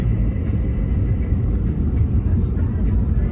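Audi A4 S-Line 1.8 TFSI, rated around 180 horsepower, driving through Belgrade streets toward a hill. A steady, loud low rumble of engine and road noise fills the cabin without pause, with no voices.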